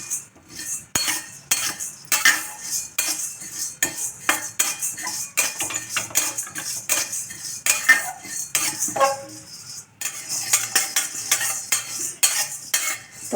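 Toor dal and spices dry-roasted in a pan without oil, a spoon scraping and clinking against the metal in quick irregular strokes, with grains rattling faintly between stirs.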